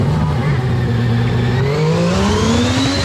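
A race car pulls away from a hillclimb start line, its engine note climbing steadily in pitch as it accelerates hard for about three seconds, loud and continuous with a rough mechanical edge underneath.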